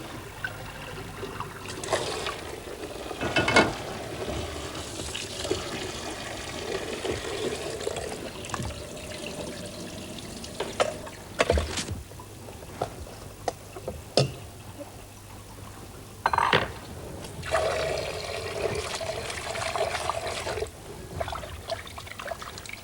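Cooked sushi rice being drained and washed with water in a Japanese kitchen, heard as intermittent pouring and trickling water with splashy handling bursts spread across the clip; no talk.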